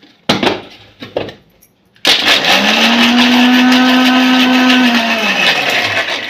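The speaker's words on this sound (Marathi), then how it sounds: "शेंगदाणे शिरले होते ना, तर ते आता मिक्सरमध्ये बारीक करून घेऊ." After a few clicks and knocks, a kitchen mixer grinder roars on loudly and steadily as it grinds peanuts finely, its motor whine sustained with no talk.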